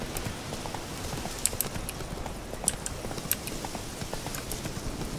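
Horse named Roach walking, hooves clip-clopping in a steady uneven rhythm over a continuous rough background, moderately close with occasional sharper hoof strikes.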